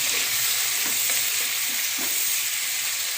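Tomatoes sauté with tamarind, green chillies and turmeric powder for tomato thokku, giving a constant close sizzle broken by a few soft spoon-stirring taps.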